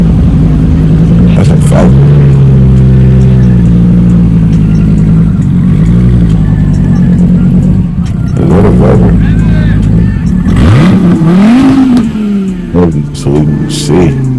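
An exotic car at a 2025 Broadway car meet revs and accelerates away, its engine rising and falling close by under steady conversation.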